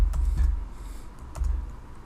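Typing on a computer keyboard comes through as a few soft, close clicks in two short clusters, with a quiet gap between them.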